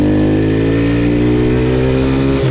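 A SyxMoto ATV or dirt bike engine revs loudly and close up, its tone climbing steadily as it accelerates, with a brief dip as it shifts into the next gear.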